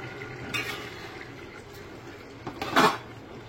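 Mutton and pulao stirred once in a cooking pot after sugar is sprinkled over, giving a soft scrape and clink of spoon against the pot, with the louder stroke near the end.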